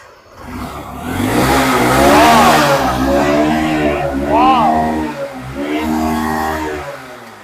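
Honda Shine motorcycle at a used bike showroom: the engine idles with a steady mid-pitched hum and is revved up and down a few times, loud and near, while people talk nearby.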